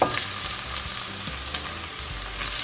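Onions and tomatoes drop into a pan of smoked herring stew, setting off a loud, steady close sizzle with stirring scrapes and small crackles throughout.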